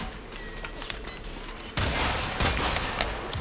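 Video game gunfire with a steady stream of shots that grows louder and denser about halfway through, then continues as sustained bursts.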